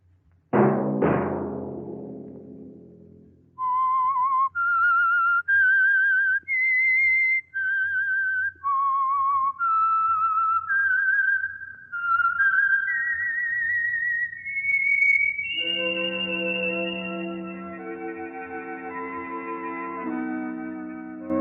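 A sharp chord stab, then a clear whistled tune of distinct rising and falling notes, the signal theme of the radio drama The Whistler, ending as a sustained orchestral chord swells in.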